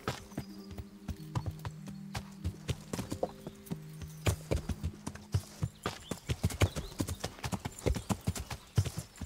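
Horse hooves clip-clopping at a steady walking rhythm in the medieval role-playing game Kingdom Come: Deliverance, loud and close, with a low musical drone underneath in the first half.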